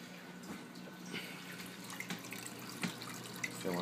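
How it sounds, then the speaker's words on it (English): A reef aquarium's return pump refills the tank, and water runs and splashes steadily with scattered drips and gurgles close by, fairly quiet and with no talk. "So the return pump's running again. Let that fill up."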